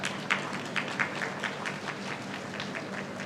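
Audience applause at an international conference on world religions: soft, sustained clapping from a crowd in a hall, with a few sharper individual claps standing out through the steady patter.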